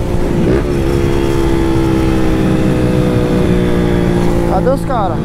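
A Honda Start 160 motorcycle fitted with a sport exhaust runs loud and close, its engine droning steadily before a short burst of crackling exhaust pops near the end.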